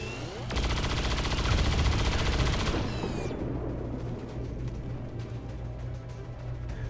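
A sustained burst of rapid automatic gunfire from a shot in the video game XCOM 2, loud and close for about two seconds, then trailing into a rumbling echo and scattered debris clatter.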